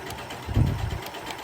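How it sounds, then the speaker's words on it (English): Janome Continental M6 sewing machine running at its fast stitch setting, a brief low mechanical whir that swells and fades over about a second. "So as I sew down, I'll just line it up. And again, it's already on that fast stitch."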